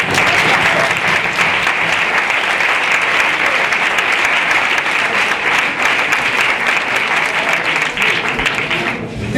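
Sustained, loud audience applause at a French student eloquence contest welcomes a young speaker, steady dense clapping throughout with faint crowd voices underneath.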